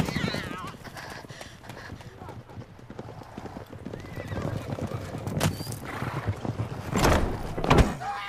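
Horse hooves clip-clop steadily in The Witcher 3: Blood and Wine, joined by a horse's whinny, with voices and louder thuds toward the end.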